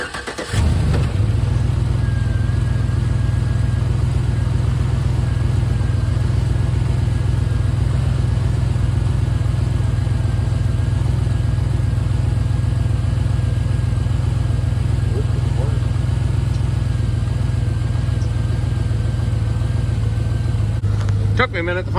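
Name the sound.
GMC Yukon XL truck engine starting and running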